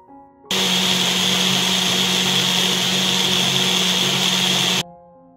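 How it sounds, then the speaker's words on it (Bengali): A mixer grinder grinds mustard seeds that were soaked overnight, starting abruptly and running as a loud, steady whirring roar for about four seconds before cutting off, with nothing else heard over it. "এখন খালি মিক্সিতে পেশাই করে নিই"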